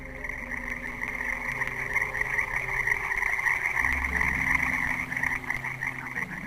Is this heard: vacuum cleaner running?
no